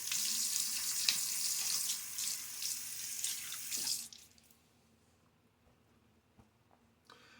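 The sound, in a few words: water splashing into a sink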